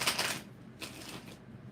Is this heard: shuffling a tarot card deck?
yes